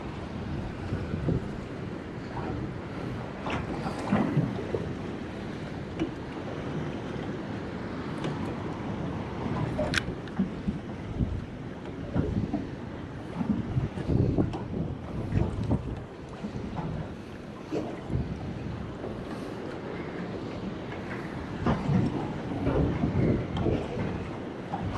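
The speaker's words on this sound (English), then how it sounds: "that wind's really picked up" Wind blows steadily over a fishing boat out after kingfish and bait, a constant rough buffeting rumble across the microphone with gusty swells and faint water sounds beneath, no voices.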